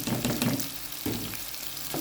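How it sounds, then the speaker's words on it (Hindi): Chicken mince and capsicum fry in a pan, a close, continuous sizzle with soft stirring scrapes rising and falling in short bursts. "अब हम इसको अच्छी तरह भून लेंगे क्योंकि ये थोड़ी सॉफ्ट हो जाए।"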